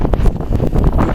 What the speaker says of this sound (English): Very windy.